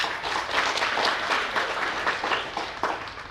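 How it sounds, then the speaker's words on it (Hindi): Loud, sustained applause fills the hall at a 75th birthday celebration, many hands clapping together in a dense, even wash with a faint crowd murmur beneath. "शालिनी जी के लिए जोरदार तालियां।"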